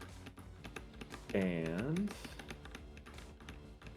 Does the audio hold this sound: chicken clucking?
no